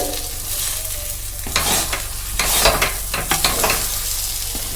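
Lentil dal for dhoka dalna stirred and sautéed in a pan on low to medium heat, a steady loud sizzle with repeated scraping strokes of the spoon.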